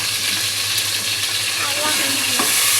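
Ginger and garlic frying in a pan for kuzhambu, a loud, close, continuous sizzle with a stirring scrape or two, heard alone for a few seconds.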